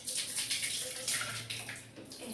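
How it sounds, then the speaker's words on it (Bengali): Water poured into a pot of lentils on a home stove, a steady splashing stream that runs the whole time at close range, with faint background noise. "জল দিয়ে দিলাম।"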